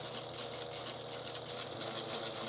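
A sewing machine runs steadily, stitching piping onto a handbag exterior with a continuous, even mechanical whir throughout, with no pauses.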